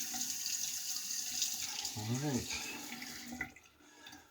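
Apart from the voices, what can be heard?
water running from a tap for rinsing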